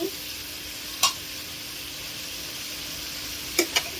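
Pigeon meat with spices and a pinch of garam masala being stir-fried in a pan, a steady close sizzle broken by a few sharp spatula scrapes.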